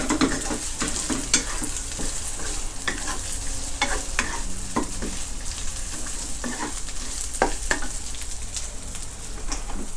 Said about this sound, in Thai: เราใส่นี่หมูกรอบใส่ลงไปเลย